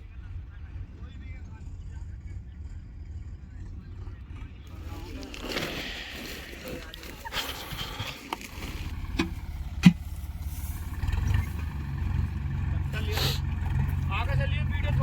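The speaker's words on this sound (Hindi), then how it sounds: "तो ये ट्रैक्टर भी आ गया।" A tractor engine rumbles low and grows louder as it arrives on a farm during the wheat harvest, with bumps and clatter and people talking over it.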